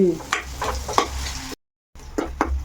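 Onion chutney sizzles and fries in a pan as a spoon stirs it in repeated scraping strokes, loud and close, with a brief silent gap midway.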